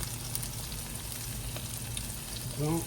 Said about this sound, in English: Let that sizzle a minute or two longer.